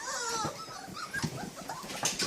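Newfoundland puppies on a farm whimpering and whining at a doggy door, with thin, wavering high cries in short bursts over a low background hum, fairly close and with no talk.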